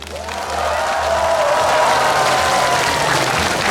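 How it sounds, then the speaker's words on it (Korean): An outdoor festival crowd at the Geochang Hanmadang concert breaks into dense, steady applause and cheering that swells quickly and holds loud, with a low hum from the stage sound system beneath. "즐길 준비 되신 분들은 박수 함성."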